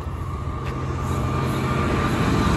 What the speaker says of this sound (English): Another train coming.